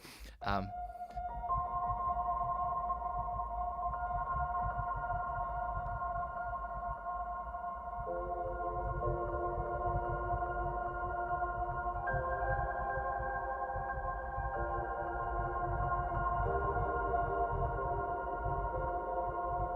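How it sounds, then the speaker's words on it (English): Soft, muffled notes from a felt upright piano hang and blur together, drenched in long echoing delay and heavy reverb, forming a continuous ambient wash. "which is actually a felt upright piano, and it's got like quite a lot of delay mixed with a ridiculous amount of"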